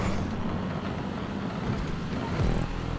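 In GTA 5 a car engine drones steadily during a stunt race, mixed with wind-like road noise. Near the end the pitch shifts briefly and rises, as if the car were revving or changing speed.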